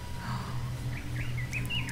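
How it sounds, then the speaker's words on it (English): Birds chirp and tweet in short high calls over a steady low ambient drone in the zombie game Dead Island, with no talking. "It's the chirping birds and places that I have not explored yet."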